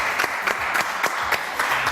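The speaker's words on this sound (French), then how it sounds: "Je vous demande de les applaudir très très fort" Studio audience applause on a French entertainment news show, a sustained crowd of clapping hands with a rhythmic pulse of louder claps, close and fairly loud.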